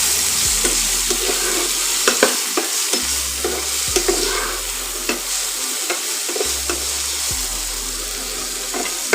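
Okra with salt and turmeric stirred and sizzling in a pan on an induction stove, a loud continuous fry with regular scraping strokes and a low intermittent hum underneath, no voices.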